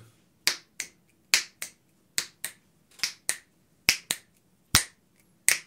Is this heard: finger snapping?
yes